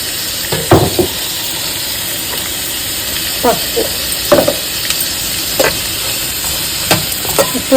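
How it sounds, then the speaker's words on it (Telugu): Onions fry in a pan with salt and turmeric under a steady sizzling hiss, and a utensil is stirred and scraped against the pan now and then. The sound is close, with speech nearby. "పసుపు వేస్తే ఉల్లిపాయ త్వరగా వేగుతుంది"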